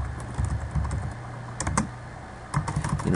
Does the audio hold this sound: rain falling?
no